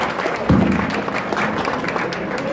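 Audience applause for a singer at an evening concert, a steady wash of clapping from a crowd with a brief louder burst near the start, sustained throughout without speech.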